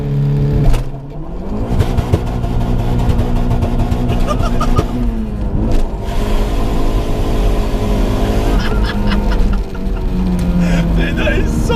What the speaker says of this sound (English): It's got launch control and then just literally floor it.